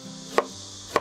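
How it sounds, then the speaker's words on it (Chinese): A kitchen knife slicing luffa gourd on a cutting board, two crisp separate chops about half a second apart, close and clear against a quiet background. "丝瓜切片儿"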